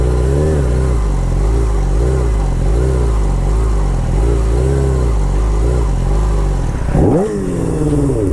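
A motorcycle engine drones loudly and steadily during tight foot-brake circles, its pitch rising and falling in a repeating wavy pattern before one sharp rev near the end. The bike is close, with no talk over it.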